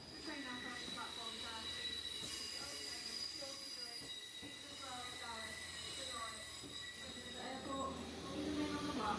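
Wheels of a British Rail Class 158 diesel train squeal steadily and loudly throughout, with metallic shrieks and clattering rail noise under a constant engine rumble.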